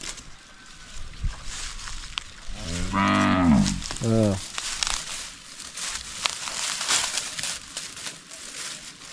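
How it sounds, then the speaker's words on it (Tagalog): White Brahman cattle on a farm giving two close, loud moos, one long and one shorter, over outdoor background noise. "Yung ating white Brahman mga kaprobinsya oh."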